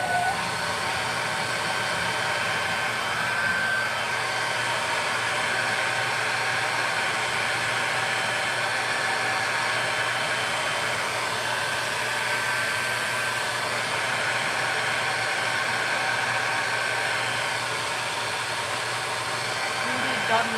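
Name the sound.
hair dryer drying paint on a dresser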